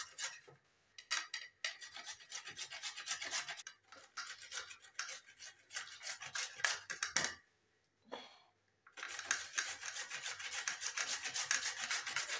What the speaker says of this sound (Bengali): এভাবে সুন্দর করে গ্রেট করে নিচ্ছি